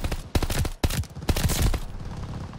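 Automatic weapon fire from the Call of Duty Vanguard video game on the Radar map, in a free-for-all match: three or four loud, close bursts of rapid shots cut by brief pauses, then a tail of fainter echo.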